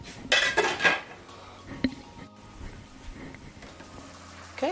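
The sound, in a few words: covering a pot of rice with a lid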